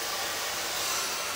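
A hair dryer blows steadily and close during a home blow-dry, a continuous airy whoosh with no speech over it.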